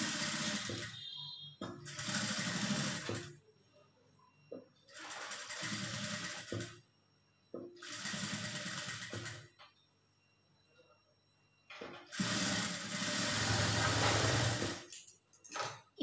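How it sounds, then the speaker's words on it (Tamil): Sewing machine stitching the curved back neck of a voile blouse with canvas, running in several loud bursts of a few seconds each, separated by pauses where someone talks quietly. "இந்த வளைவுக்கு ஏற்ற மாதிரி அப்படியே தையல் போட்டுக்குங்க"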